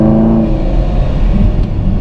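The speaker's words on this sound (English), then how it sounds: "you can hear all the air being gulped into this motor" The supercharged 1,000 hp Hennessey Exorcist, fitted with a ProCharger, gulps air in a dense, continuous rumble heard close up and loud, with no break across the two seconds.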